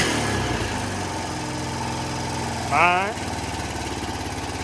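Honda Rancher ATV engine running at a steady idle throughout, with a brief pitch rise near the three-second mark, loud and close, while someone speaks briefly.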